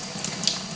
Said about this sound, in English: when you let the water run